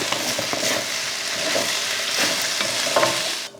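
Vegetables sautéing in a pan during home cooking, with a steady close sizzle and repeated scraping stirs of a utensil throughout, cutting off near the end.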